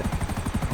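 Rapid rhythmic thumping of helicopter rotor blades in the video game GTA 5, loud and steady, with an engine drone underneath.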